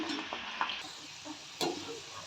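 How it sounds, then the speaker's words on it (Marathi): Dal fries in hot oil with a faint, steady sizzle, broken by a few soft stirring clicks and scrapes. "अशा प्रकारे पूर्ण डाळ तळून घ्यायची"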